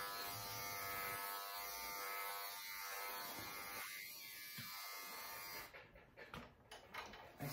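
Electric clippers buzz steadily and close while grooming a terrier mix dog, the hum shifting in pitch as the blade moves through the coat, then thinning into lighter, broken passes near the end.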